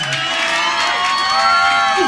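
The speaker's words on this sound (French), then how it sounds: "Faudrait juste qu'on applaudisse Claude Desjardins!" A live comedy-club crowd at a stand-up show cheers and whoops loudly for Claude Desjardins, a dense, continuous roar of voices with shouts and whistles rising across the whole stretch.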